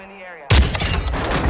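Video game gunfire bursts in abruptly after a quiet tone, a loud, dense volley of rapid shots rattling on close and unbroken to the end.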